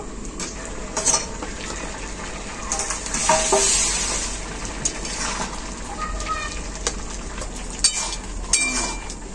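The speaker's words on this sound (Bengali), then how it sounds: "সবজিগুলো খুব ভালোভাবে ফুটে গেছে, ঝোলটাও অনেকটাই শুকিয়ে গেছে।" Vegetables cooking down in a pan with dried fish curry, the liquid mostly reduced, making a close sizzle and bubbling with scattered clinks and scrapes of a utensil against the pot.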